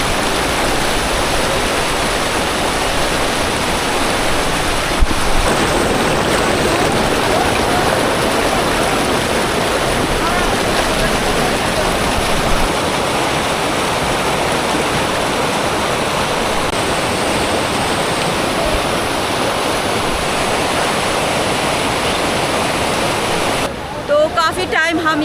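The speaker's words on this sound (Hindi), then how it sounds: "यहाँ से साफ़ और ठंडा पानी नीचे जा रहा है।" Cold, clear glacier meltwater rushing down over rocks, a loud, steady, close roar of water that continues unbroken throughout.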